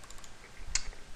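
Quiet typing on a computer keyboard, a few soft key taps with one sharper click near the middle, close up over faint background hiss, no talking.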